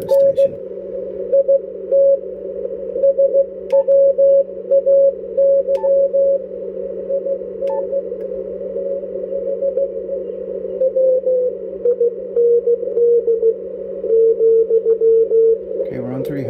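Morse code from a station received on a Yaesu FT-DX10 transceiver through a narrow 300 Hz filter: a steady, loud tone keyed on and off in rapid dots and dashes over a constant low hum.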